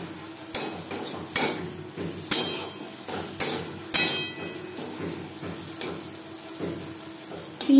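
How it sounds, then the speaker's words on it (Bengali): Fried drumstick leaves with coconut in a pan, stirred with regular scraping knocks about every half second over a soft frying hiss. "নারকেলের সাথে 2-3 মিনিট নাড়াচাড়া করে নেব"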